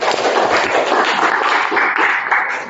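Steady, dense applause from a classroom group fills the whole stretch, loud and continuous with a few sharper claps standing out.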